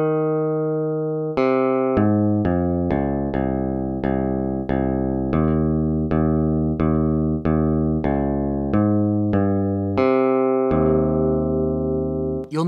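Bass string of the Bulbul Tarang, a sampled Indian keyed zither in a Soundpaint virtual instrument, struck in a rhythmic series of about fifteen bright, twangy plucked notes with buzzy metallic overtones and ringing sustain, close and alone.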